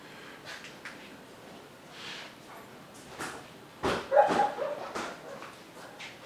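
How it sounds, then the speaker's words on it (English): A wet dog indoors lets out a couple of sharp, close barks and a snorting huff after quiet moments, short bursts at moderate loudness with a little background noise. "You've been outside, you're all wet, and you've been barking at the trucks."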